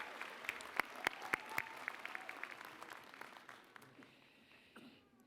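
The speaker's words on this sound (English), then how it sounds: "while we recognize her with our applause" Audience applause at a 2019 Westchester Community College commencement for the valedictorian, a dense patter of clapping with sharp individual claps early on that gradually thins and fades toward the end.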